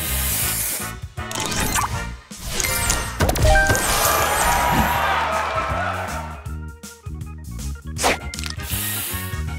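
Spray booster effect from the Match Masters mobile puzzle game: a loud, busy burst of hissing spray and crashing, smashing game sounds over music, with sharp hits and a swell in the middle before fading back to the game's music.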